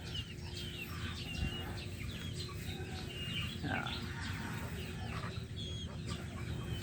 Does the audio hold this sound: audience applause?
no